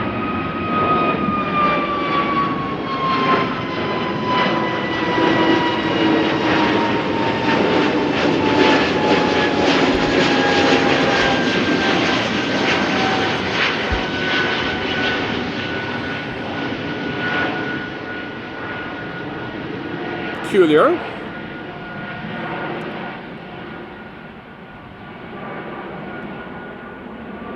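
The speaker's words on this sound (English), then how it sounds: "SAS A320neo. Arriving from Oslo, going around for some reason." SAS Airbus A320neo from Oslo going around at Amsterdam Schiphol in crosswind, a sustained loud jet engine roar with rising whining tones that swells and then slowly fades as it climbs away, with a brief spoken word partway through.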